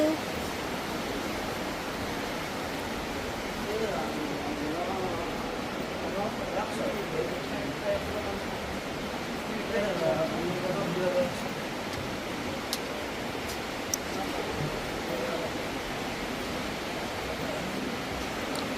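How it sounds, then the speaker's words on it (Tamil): A waterfall pours beside a cave in Switzerland, a steady broad rushing roar of falling water heard from nearby and continuing without a break. "அருவியை கொட்டுது"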